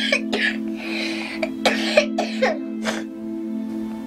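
A child in Ethiopia coughing repeatedly, several close, harsh bursts in an uneven run over a steady low hum.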